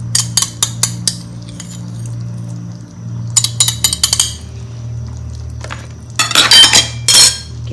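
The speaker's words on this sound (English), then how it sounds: "Give it a stir." A spoon clinks and scrapes against a pot as brown sugar is stirred into a simmering nasi lemak sauce, in several short, sharp bursts of metallic knocks separated by quieter gaps, with no talking.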